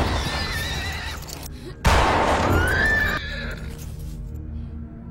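A horse gives a loud, close whinny that rises and shakes over a couple of seconds, set against a dramatic film soundtrack with a voice speaking over it.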